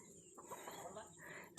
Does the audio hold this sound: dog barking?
no